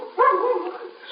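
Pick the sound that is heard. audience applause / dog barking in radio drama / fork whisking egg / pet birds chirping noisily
dog barking in radio drama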